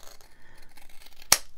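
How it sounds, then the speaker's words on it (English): Scissors trim paper in a junk journal with one sharp, close snip near the end, preceded by quiet handling rustles. "Let's just trim it and see if that's the case"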